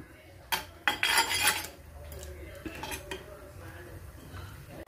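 A spoon scrapes and clinks against a pot as river fish is stirred into a coconut-based curry masala, with a few sharp metallic knocks early on followed by softer stirring, close by and without talk.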